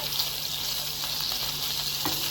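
Garlic fries in hot oil for koshari, giving a steady, even sizzle that holds close and constant throughout, with no voices over it.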